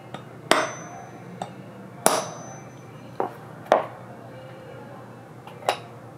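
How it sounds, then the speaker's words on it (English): A hammer strikes a center punch on metal several times, giving six sharp metallic taps at uneven intervals, each with a short ringing decay, in a quiet workshop. "Okay, and that made a nice punch mark in this"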